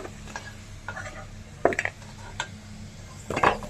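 Fried potatoes, seasoned with turmeric, are lifted from a pan on a home kitchen stove with a metal utensil, giving a few scattered scrapes and clinks against the pan over a low background hum.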